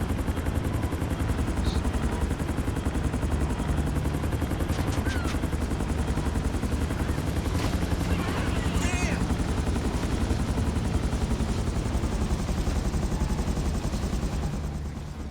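Helicopter in GTA 5, modelled on a Bell Huey, flying and setting down: a loud, steady rotor and engine drone that fills the whole stretch without a break, with faint game effects scattered over it.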